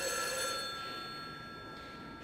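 A telephone bell rings in a sustained metallic trill that fades out, then starts again at the very end, moderately loud in a quiet room.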